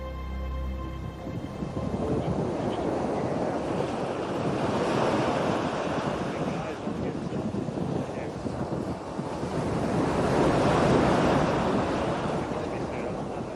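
Ocean waves surge and crash in broad swells beneath constant wind noise, a loud, continuous roar that rises and falls.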